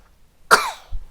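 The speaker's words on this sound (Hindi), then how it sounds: "ये ना खांसी बहुत आ रही है, लेकिन कोशिश कर रहा है रोकने की और रुक नहीं पा रही है इसकी।" A single sharp cough from a young child, close and fairly loud, followed by a faint breathy sound in an otherwise quiet room.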